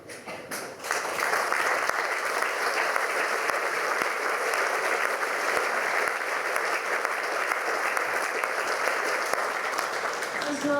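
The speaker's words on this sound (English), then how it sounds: "I welcome your applause for each individual prize awarded this evening" Steady applause from a school prize night audience fills the hall, a dense, continuous clapping that carries on evenly throughout, with no speech over it.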